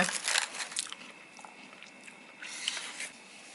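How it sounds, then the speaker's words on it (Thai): Goat milk ice cream with fruit topping being eaten up close, with faint soft bites and wet chewing, a few crisper crunches early on, then quieter mouth sounds. "เดี๋ยวเราแอบกินชิ้นครึ่งหนึ่งพอ"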